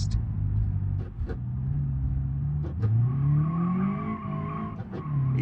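A Sunburst car in BeamNG.drive on poor tyres with an open differential, its engine droning and revving steadily with rising and falling pitch, joined by tire squeal and skidding, close and loud throughout without speech.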